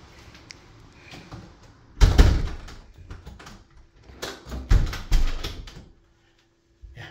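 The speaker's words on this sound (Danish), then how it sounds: "Og nu skal jeg lige have lukket døren." A door in a home's cupboard area is shut, making a loud thump followed by rattling and knocking clatter, then a few more bumps before the room falls silent.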